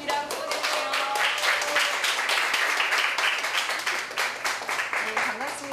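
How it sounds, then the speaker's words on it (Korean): An audience at a talk event claps steadily for several seconds to welcome an author onto the stage. The dense applause is mid-distance, and a voice speaks over it. "아름다운 허지영 작가님을 박수로 맞아보도록 하겠습니다."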